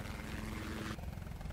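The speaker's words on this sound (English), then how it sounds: "That is a helicopter." Helicopter in the video game Chained Together, a steady close rotor and engine drone that suddenly drops in brightness partway through.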